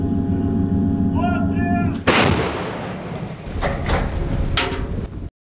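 A single loud, booming blast from a Bohdana self-propelled howitzer follows a steady mechanical hum, then a long rumbling echo with a few metallic clanks.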